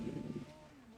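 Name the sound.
car engine note, on and off throttle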